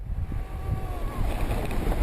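An Apollo City Pro 2WD electric scooter runs at full speed, with strong rushing wind buffeting the microphone and a faint whine from the motor beneath it.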